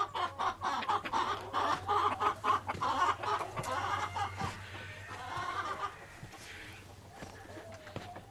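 Chickens cluck in a backyard chicken pen: several birds make steady, overlapping clucks at close range that fade off toward the end, with a low hum running beneath.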